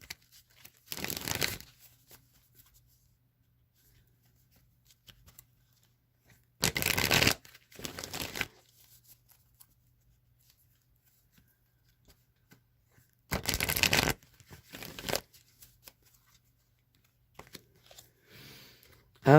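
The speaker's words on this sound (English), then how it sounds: "Now I'm just going to shuffle the wisdom of the Oracle deck 3 times." Three separate bursts of shuffling an oracle card deck, each a quick papery riffle of a few seconds, close and crisp, with quiet pauses between them.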